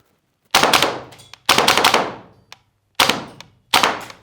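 An AK Vityaz 9mm airsoft gas blowback rifle fires in short bursts nearby: four sharp rapid-fire strings of snappy mechanical cracks with clacking bolt action and brief silences between.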